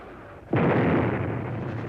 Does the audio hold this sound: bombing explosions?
yes